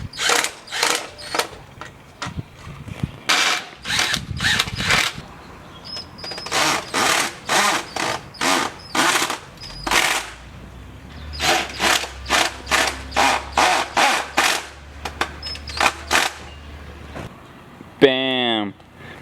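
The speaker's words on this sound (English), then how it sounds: "today I'm literally just going to screw some screws into it." Screws being driven into a scooter deck, heard as repeated short bursts of a power driver whirring, close and loud, in rhythmic spurts with brief gaps, a low hum partway through and a ratcheting sweep at the end.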